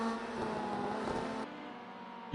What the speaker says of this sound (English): You can hear a car coming close to him though.